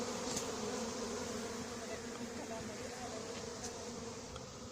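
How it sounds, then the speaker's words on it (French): A honeybee swarm at about 2.5 metres in a hedge, stirred up by shaken branches, keeps up a dense, steady droning buzz that stays close and loud throughout. "Je secoue les branches autour pour les faire voler."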